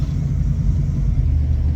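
Cars rolling on a wet road, including a Corvette ZR1 and a 1966 Ford Mustang, a loud steady low engine and tyre rumble close by, without talk.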